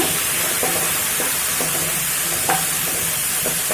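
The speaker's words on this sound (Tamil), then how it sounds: "தக்காளி போட்டு வதக்கிக்கோங்க" Onions and tomatoes sizzle in a pan for sambar while being stirred, giving a steady close frying hiss broken by periodic scraping stirs.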